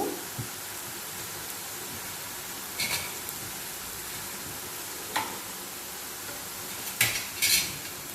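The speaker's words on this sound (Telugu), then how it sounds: "జీడిపప్పు కూడా ఫ్రై అవుతున్నాయి" Cashew nuts frying in a pan for mint rice, heard as a faint steady sizzle with a few sharp clinks of a spoon stirring against the pan, no talk.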